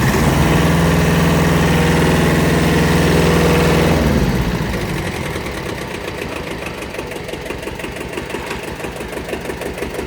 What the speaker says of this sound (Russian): Трактор запускается. Очень удобно. Ручной газ.